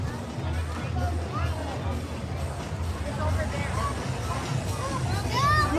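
Dense crowd babble fills a busy Magic Kingdom walkway near the parade, a steady wash of many overlapping voices and footsteps close around, with no single voice standing out.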